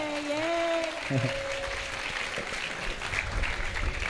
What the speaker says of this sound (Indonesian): Tepuk tangan buat Erlangga.